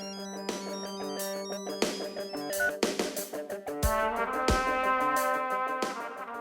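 A phone rings with a melodic electronic ringtone, a repeating tune of clear tones played loudly and close for several seconds with no talking over it.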